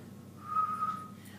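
A person whistles a single steady, fairly soft held note lasting under a second, alone over a quiet background hum.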